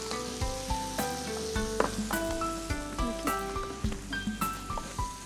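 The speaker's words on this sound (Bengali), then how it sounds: "মশলাটা মনে হয় একদম ভাজা ভাজা হয়ে গেছে।" Whole cinnamon, bay leaf and cardamom sizzle steadily in hot oil with garlic paste while lamb roast is being prepared, a continuous close frying hiss broken by sharp clinks and a few faint tonal sounds.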